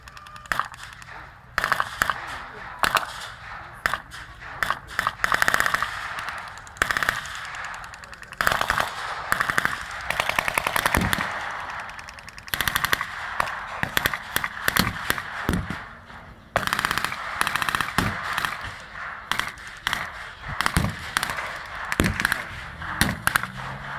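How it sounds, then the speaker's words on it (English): At a WW2 battle re-enactment at Military Odyssey 2016, British 25-pounder guns and other weapons fire over and over. Sharp bangs and rattling bursts come in irregular volleys, loud and echoing across open ground. "The Brits are firing their 25-pounder guns"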